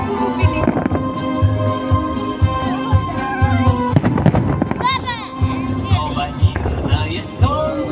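Festive fireworks salute at the Church on the Blood for a May 9 celebration, with repeated booms and crackling bursts, whistling rising shells, and a crowd cheering and talking beneath the loud, steady barrage.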